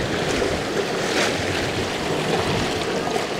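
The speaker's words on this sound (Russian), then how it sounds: "И опять идет волна." Sea waves breaking on the shore at Anapa, a loud, continuous wash of surf and rushing water with a gentle swell in the middle, mixed with wind noise and no voices.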